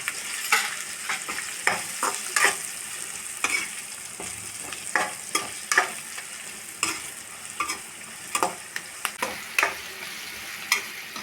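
Okra and onion stirred with spices in a hot frying pan: a spoon scrapes repeatedly in an irregular rhythm over a steady close sizzle, with no one talking.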